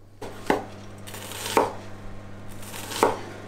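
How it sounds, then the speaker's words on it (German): Onion being cut with a knife on a board for a baked rabbit dish, three distinct sharp chops spaced about a second apart over a low steady hum, no voices. "jetzt schneide ich eben schnell noch die Zwiebel klein"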